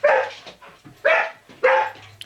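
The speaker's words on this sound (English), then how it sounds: "you have to listen to my dog bark for a second while Keith goes out to the driveway" Dog barking nearby, three loud sharp barks in a row about half a second apart, with softer whimpering yips in between, alone without speech.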